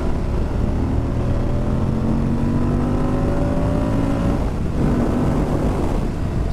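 A 2023 Moto Guzzi V100 Mandello motorcycle engine runs steadily nearby, its droning note climbing as the revs rise before settling back, with no speech over it.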